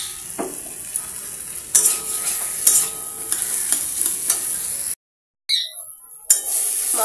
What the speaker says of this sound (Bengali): আলুগুলো দিয়ে আমি আর একটুখানি কিছুক্ষণ কষিয়ে নেব